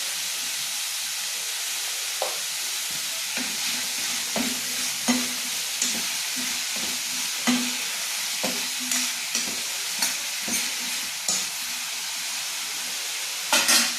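Chayote frying in a pan with salt, a steady close sizzle and hiss with repeated scraping stirs of a utensil against the pan, no talking.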